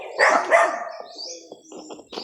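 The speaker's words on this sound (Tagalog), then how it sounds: "Maingay lang dito kasi mayroong aso." A couple of short, sharp dog barks up close, followed by quieter yips and whines.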